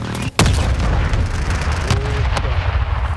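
Heavy booming explosions and rumbling fire from a gunship giving air support in Call of Duty Modern Warfare II, a loud sustained roar with two or three sharper blasts punching through.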